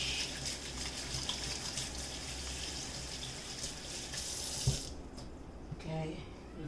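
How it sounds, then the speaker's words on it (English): Hands washed under a running kitchen tap, a steady splashing water flow that stops abruptly partway through, followed by a few small clinks and faint movement sounds. "Then I wash my hands"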